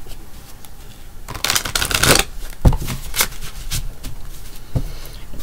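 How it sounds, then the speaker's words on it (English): Tarot cards are shuffled close up in a quiet room, a run of soft riffling swishes and sharp card slaps and taps with no voices. "All the cards have been pre-shuffled."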